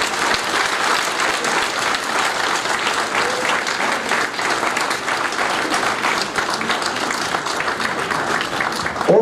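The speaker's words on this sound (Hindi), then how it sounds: "तालियां बजाइए।" Sustained, dense applause from a large audience at an Urdu-Hindi poetry and speech gathering, a loud continuous roar of many hands clapping for several seconds without pause or speech.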